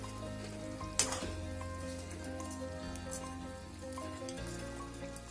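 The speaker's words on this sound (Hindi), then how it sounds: "अलट पलट के मैंने ये लवंग लता को फ्राई कर लिया है।" Soft, steady sizzling of laung lata sweet pastries deep-frying in hot oil over low heat, with faint crackles and a brief clink, fairly quiet, no talking.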